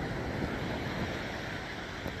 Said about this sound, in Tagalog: At yun nga, andito tayo sa tabing dagat.